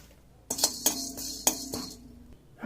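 Black pepper and cumin roasted in a hot kadai, heard as a spoon clinking and scraping against the metal in several sharp, close strikes, then a quieter stretch of light stirring.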